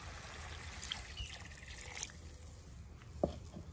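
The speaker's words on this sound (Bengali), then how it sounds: "এবার আমি গরম জলটা ঢেলে দেবো," Hot water poured into a pan of jackfruit curry (kathaler dalna) on a wood fire, a faint, quiet trickle and splash running continuously with a few small clinks near the end.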